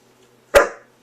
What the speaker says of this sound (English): Casey's barking